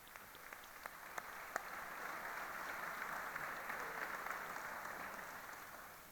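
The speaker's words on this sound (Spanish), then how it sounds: "Os pido un fuerte aplauso para el consejero." A sustained round of applause from a seated audience at an agri-food forum greets the regional agriculture minister, steady dense clapping with a few sharper claps standing out, moderately distant and without speech.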